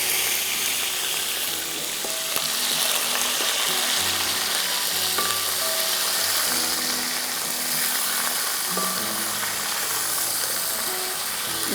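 Chicken pieces frying in a pot for biryani, a steady, dense sizzle that holds at an even loudness throughout, with occasional stirring and scraping clicks from a utensil against the pot and no talking.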